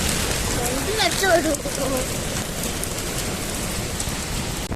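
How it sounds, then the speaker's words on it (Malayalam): Heavy wind and rain lashing Kettungal beach in Kerala during a storm, a steady loud roar of gusts and downpour throughout, with a person's voice briefly rising over it. "ഭയങ്കര കാറ്റും മഴ കേട്ടോ നമ്മളെ കെട്ടുങ്ങൽ ബീച്ചാണ്"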